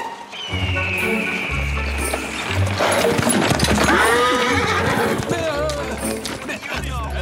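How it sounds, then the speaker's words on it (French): Horses neigh and gallop in a cartoon, with rhythmic hoofbeats pounding and several loud whinnies rising over the clatter, while people talk briefly alongside. "Mais d'où ils sortent ces chevaux?"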